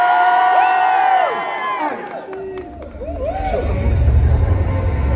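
A concert audience at a Japan-culture festival in Tours cheers, whoops and shouts in a loud, sustained burst, with excited voices rising and falling across the crowd.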